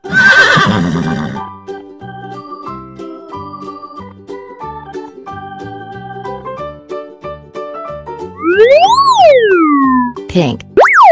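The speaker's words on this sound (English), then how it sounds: "Horse." A horse neighs in a cartoon-style children's animal and colors song, a loud whinny near the end, over light plinking music and a springy boing effect.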